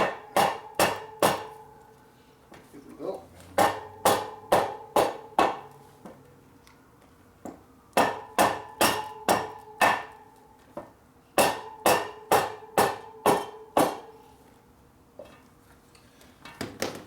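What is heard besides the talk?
hammering a part on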